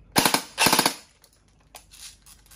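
A CYMA MP5 airsoft gun (CM.041B, metal body, RIS rail handguard) fires two short, close bursts of rapid shots, followed by faint handling clicks.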